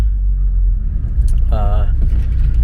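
A car rolls along a road on Skyline Drive near an abandoned inn, its low engine rumble and tyre noise steady and close, with a brief burst of talk partway through.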